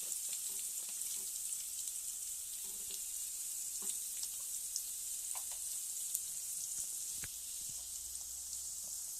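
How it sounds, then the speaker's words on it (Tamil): Ingredients for a chicken gravy sauté in a hot pan, giving a steady, close, bright sizzle throughout with occasional soft clicks and stirring scrapes. "இப்போ இதையும் போட்டு நல்லா வதக்க போகிறோம் நல்லா கோல்டன் கலரில் வர மாதிரி வதக்க போகிறோம்"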